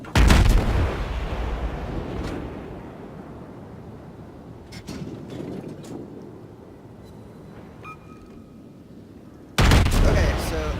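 Warship guns firing HE shells in World of Warships: a loud booming salvo opens, then a long rumbling fade with scattered distant reports and faint sounds before a second heavy blast near the end.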